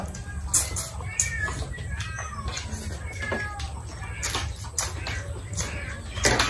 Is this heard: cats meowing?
yes